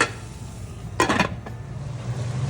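A lid set onto a cooking pot of beef giniling sautéing on the stove, one quick metallic clatter followed by a softer tap, over a steady low cooking hiss.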